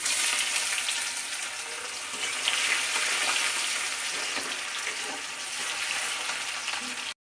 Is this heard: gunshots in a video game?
no